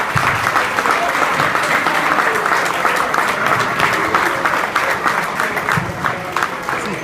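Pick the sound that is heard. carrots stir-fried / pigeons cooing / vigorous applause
vigorous applause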